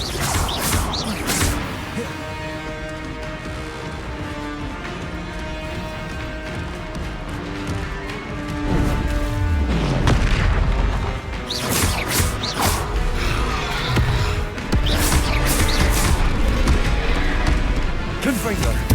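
Confringo fire spell blasts in the wizarding game Hogwarts Legacy, several loud crashing explosions and whooshing hits during combat layered over game music and noise, with a voice speaking in between.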